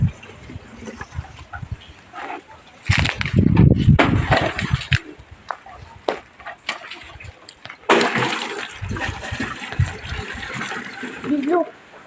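Water from a 10-litre can pours onto a chiku tree outdoors, splashing and gushing in two strong bursts between quieter stretches, with faint background voices.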